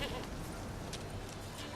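A goat bleats in The Witcher 3: Wild Hunt, a short nasal cry over a steady game ambience of low hum and noise, fairly quiet and with no talking.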